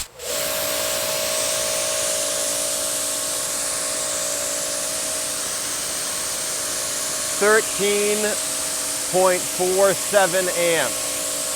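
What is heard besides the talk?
Active 2.3 pressure washer spraying with 40-degree nozzle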